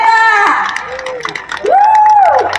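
A concert audience at a tribute concert cheers and screams loudly. Long, sustained shouted cries rise and fall over a dense crowd roar.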